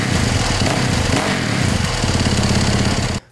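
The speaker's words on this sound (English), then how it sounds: "I'll be changing the exhaust because the exhaust is too loud on this bike." Stock exhaust on a 2019 Yamaha YZ450FX dirt bike roars loudly and steadily near the listener, a rough, buzzing engine note that holds for about three seconds before cutting off abruptly.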